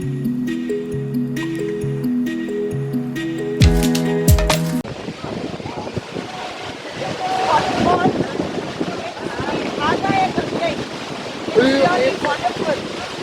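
Music plays briefly, then the roaring, rushing water of Agaya Gangai waterfall in the Kolli Hills of Tamil Nadu fills the scene as a steady, loud, wind-buffeted wash, with faint voices underneath.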